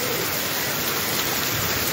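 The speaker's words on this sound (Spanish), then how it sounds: "Granizo." Hail falling during a storm in Placetas, Villa Clara, Cuba, stones about finger-sized, producing a dense, steady hiss of countless impacts that fills the whole clip without pause.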